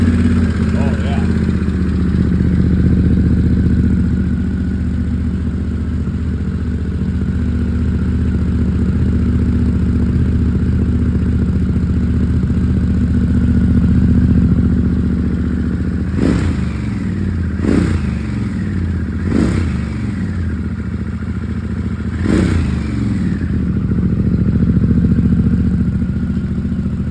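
Harley Pan America motorcycle with a Screamin' Eagle exhaust, baffle removed, idling in a deep steady rumble before four sharp throttle blips, with someone talking over it.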